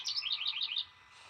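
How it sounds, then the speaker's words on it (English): A bird standing guard near its nest gives a rapid series of bright, high chirps lasting under a second, close and clear, then falls silent over quiet background. "Oh, you hear that bird?"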